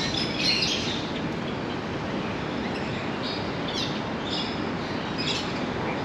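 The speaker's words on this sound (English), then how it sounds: "this is just an absolute haven for all of these different species of birds" Many bird species in the Hong Kong Park aviary chirp and squawk in scattered high calls over a steady, dense background hum, with no talking.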